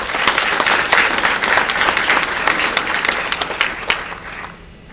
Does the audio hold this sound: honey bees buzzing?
no